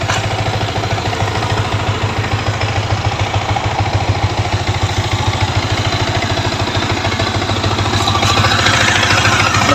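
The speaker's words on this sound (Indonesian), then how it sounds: "Mesinnya masih bening" A 2017 Yamaha V3 motorcycle engine idles with a steady, even low rumble and fine rhythmic pulsing, close and loud throughout with no talk.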